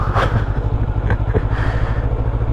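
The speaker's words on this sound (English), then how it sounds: "nice sounding stock exhaust, which I've had multiple comments that is louder than normal stock exhausts" A motorcycle with a louder-than-usual stock exhaust idles and revs close by, a steady deep throaty rumble with brief rises in pitch.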